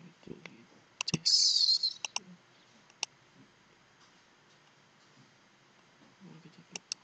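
Computer mouse clicks, a few sharp close taps scattered through a quiet room, with a brief louder burst early on and faint background voice.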